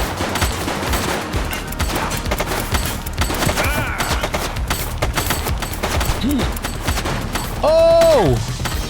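Bursts of automatic gunfire and heavy thumps fill a police shootout in the video game The Precinct, rattling continuously with a voice calling out at the end.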